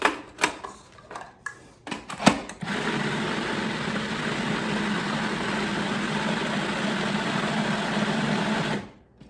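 A blender motor purées canned tomatoes and vegetables for gazpacho, running as a loud, steady whir for about six seconds after a few brief clanks, then cutting off abruptly.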